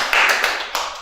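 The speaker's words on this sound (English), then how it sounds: "We can give him another round of applause." An audience at an internship program talk gives a brief burst of applause, with close, dense clapping that fades over about a second.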